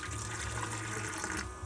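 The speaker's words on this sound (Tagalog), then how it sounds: "Lagyan natin tubig." Water pours steadily into an electric airpot being repaired, a close, continuous splashing fill that runs for over a second and then thins as the flow stops, with no talking.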